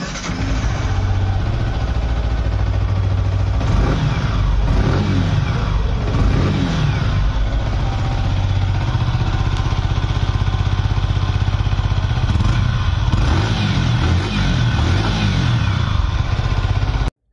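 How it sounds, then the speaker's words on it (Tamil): A 2023 Yamaha R15 V4 OBD Edition motorcycle revs with a loud, steady exhaust note, its engine rising and falling through several throttle blips over a continuous idle, close by and unbroken, with no talking. "எக்ஸாஸ்ட் பீட்டை கேட்டிருப்பீங்க"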